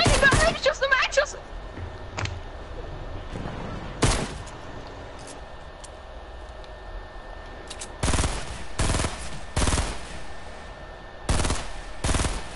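Gunfire in Fortnite: a dense burst of rapid shots at the start, one isolated shot a few seconds later, then several loud spaced shots clustered toward the end, over quieter game ambience with no talk.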